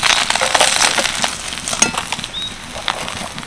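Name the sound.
grinding cumin spice on a grinding stone (shil-nora)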